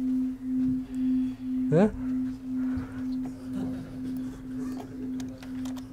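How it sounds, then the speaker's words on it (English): Two sine tones at 257 and 256 Hz sound together as a steady low hum that swells and fades in slow, regular beats. One brief spoken word and a quick rising sweep cut in near the start. "we've got 257 and 256 hertz, and you can hear a beating"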